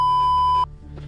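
A single loud electronic censor beep during a 100-mile ultramarathon, a pure steady tone cutting off abruptly after about half a second, followed by quieter background sound.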